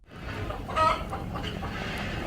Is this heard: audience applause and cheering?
no